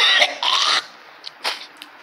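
A couple of close, breathy coughs followed by a few softer throat noises and small sounds, with no talking.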